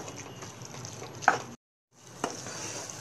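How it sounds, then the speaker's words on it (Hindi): Potatoes being fried in a pan on a medium gas flame for aloo halwa, a close, steady sizzle with a sharp scrape partway through, a moment of silence, then the sizzle returns. "इसे हम अच्छे से भून लेंगे पाँच से सात मिनट तक"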